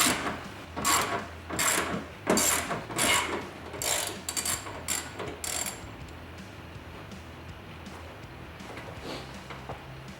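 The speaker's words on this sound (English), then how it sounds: "pull out this 10mm bolt here that is on the side of your fender" Ratchet wrench loosening a 10mm bolt on the side of a car fender on a 2012-2022 HEMI Charger: a run of rapid, close clicking bursts in quick rhythm, then fading into quieter rustling.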